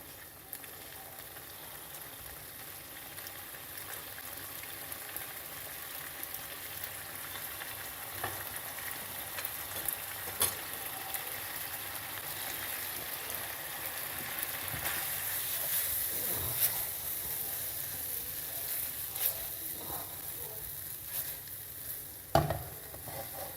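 Pasta sauce with melting cheese sizzles steadily in a pan while a wooden spoon stirs and breaks it up. The quiet, even frying hiss comes with occasional soft scrapes and a sharper knock near the end.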